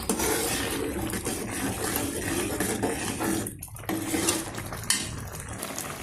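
Sweet payasam pudding is stirred in a thin aluminium pot with a metal spoon, giving repeated scraping and clinking against the pot. The stirring is continuous and close, with a slight wet, sloshing texture.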